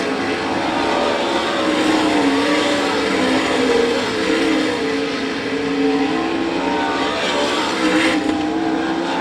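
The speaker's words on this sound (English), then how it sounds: "Just a handful of laps remaining here in the B&B Oval Track Products heat race." Sprint cars racing on an oval dirt track during a heat race at the All Star Circuit of Champions Winternationals in Gibsonton, Florida, their engines a loud, continuous roar that rises and falls as the pack circles, with no talk.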